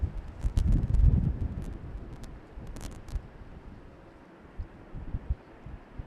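Wind gusts across an open plane-spotting spot at Amsterdam Schiphol Airport, runway 36L, buffeting close to the microphone in a strong burst early on, then easing to a lower, steadier rush with occasional small bumps.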